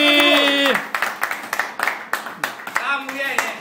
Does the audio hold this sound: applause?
yes